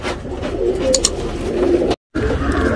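A male Guldar tournament pigeon coos in soft, low, repeated calls, heard close by with faint background noise and a momentary dropout near the end.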